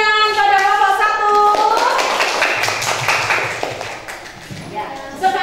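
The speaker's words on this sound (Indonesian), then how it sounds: "Beri tepuk tangan pada kelompok 1." Classroom audience of students clapping for a presenting group, a dense burst of hand claps that swells then fades over several seconds, with children's voices talking over and around it.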